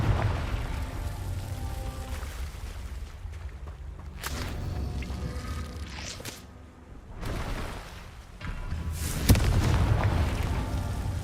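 A Confringo fire-blast spell explodes in Hogwarts Legacy: a few sharp booming blasts burst out over a steady rumbling, rain-like game ambience, with the loudest crack near the end.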